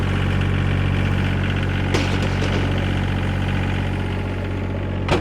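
A 2019 Gehl RT105 super compact track loader idles steadily up close, a constant low diesel drone with a faint vibration and a couple of brief metallic clicks, no talking.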